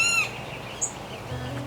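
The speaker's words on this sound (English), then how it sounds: "The birds chirp a morning light serenade to everyone exploring the border" Birds chirp faintly in the morning at Quinta Mazatlan in McAllen, Texas, a few short distant calls and a brief sharp note over a steady low background hum.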